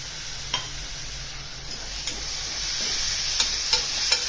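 Tomato puree sizzles in a pan with roasted coconut, ginger and garlic for a village-style pigeon pea amti, a steady fry hiss broken by a few sharp scrapes and taps of a stirring spoon.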